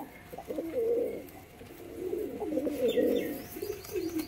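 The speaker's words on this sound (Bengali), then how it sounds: "কীরকম গরম পায়রা দেখুন বন্ধুরা, ফুল অ্যাক্টিভ পায়রা আছে" Pigeons coo nearby in soft, low, throaty bursts that repeat and overlap, with a faint chirp in the background.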